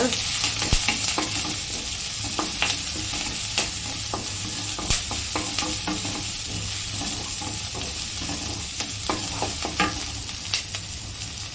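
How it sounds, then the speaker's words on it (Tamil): Onion sizzles and fries in hot oil for a Tamil sambar rice dish, a steady crackling hiss broken by frequent scraping clicks of a spoon stirring the pan, with no talking. "இப்போ நான் வந்து வெங்காயம் போட்டுக்கிறேன்."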